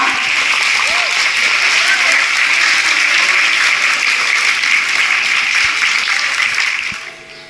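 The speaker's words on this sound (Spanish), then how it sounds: "Le damos un gran aplauso entonces al primer año A." A class of first-year students receives sustained applause from a crowd at a school event, a dense, steady wash of clapping that holds at full loudness for about seven seconds before quickly fading out.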